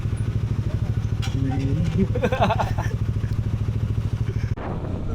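A gasoline motorcycle engine idles with a steady low throb, close and continuous, while people talk over it; near the end the engine note drops.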